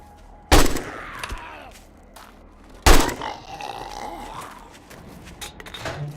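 Two loud gunshots crack out in a zombie shooter game, each a sharp close blast, with smaller impacts and a rising synthetic whine in between, followed by low background noise.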